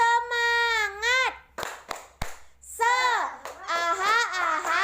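A group of young schoolchildren in an Indonesian classroom chant in sung unison with sharp hand claps between phrases, loud and close, several claps landing in rhythm between the voiced lines.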